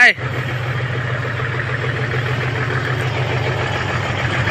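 An old vehicle engine catches with a brief burst, then settles into a loud, close, steady idle with an even low throb that continues without change.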